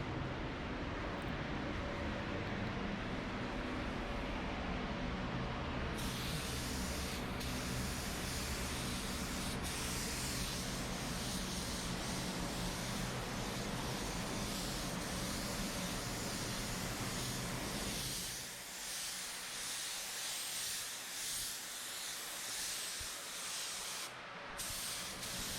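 An Iwata W400 1.3 spray gun shoots sealer at 20 psi on an '86 Monte Carlo, giving a loud, steady broadband hiss that runs continuously and then drops to a lower, thinner spray near the end.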